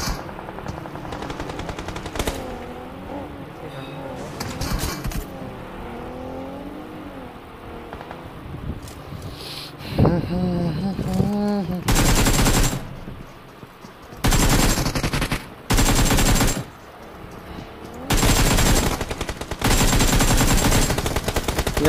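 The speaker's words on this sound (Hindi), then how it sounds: "एकेम की फायरिंग इधर उधर दिए ही जा रहे हैं" Automatic AKM rifle gunfire in a shooter video game tournament, bursts of rapid shots repeating loudly through the second half, with voiced talk over the earlier part.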